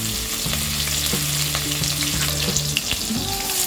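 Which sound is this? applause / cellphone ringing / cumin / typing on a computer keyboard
cumin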